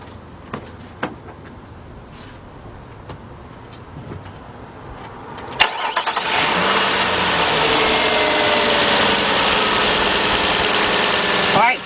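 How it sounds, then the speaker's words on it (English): A 2007 Nissan Murano with the 3.5 V6 cranks briefly, then catches and settles into a steady, smooth idle that carries on loud and close after a few faint clicks and knocks. "Let's start this car up."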